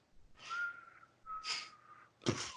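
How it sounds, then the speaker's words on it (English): Three breathy whistled tones with a steady pitch, the last one shorter and sharper, a cartoon whistle sound effect, close and fairly clear. "whistle sound effect."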